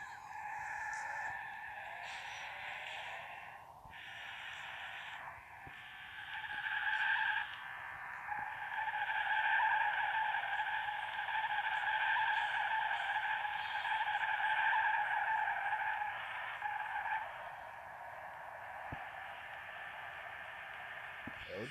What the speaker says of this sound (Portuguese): É o drift.